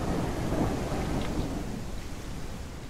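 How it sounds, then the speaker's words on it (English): Rain falls steadily in the survival game Mist Survival, a thick even wash of rainfall with low rumbling underneath, loud and continuous without talk. "it is raining, let's just check inside."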